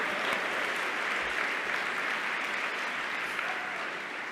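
Crowd applause at a video game awards show, an even, sustained roar of clapping from a large audience that holds steady from start to finish.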